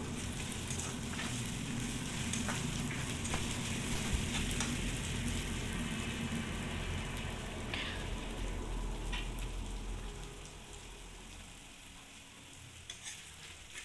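Ginger, garlic, onion and green chili fry in a hot pan with a steady, close sizzle and stirring scrapes throughout, easing slightly toward the end.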